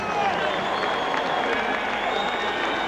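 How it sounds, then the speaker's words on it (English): A boxing arena crowd applauds and cheers the challenger, a dense, steady wash of clapping and crowd noise from a large audience, with an announcer's voice running over it. "how about a round of applause for the game challenger who came in here tonight"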